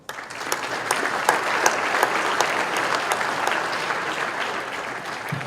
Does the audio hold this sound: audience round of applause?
yes